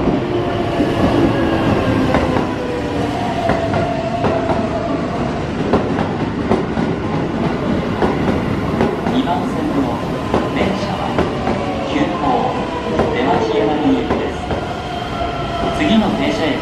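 A Keihan 7000 series electric commuter train rumbles steadily into Hirakata-shi Station, wheels clattering and brakes faintly squealing, with a recorded Japanese announcement voice speaking over the noise.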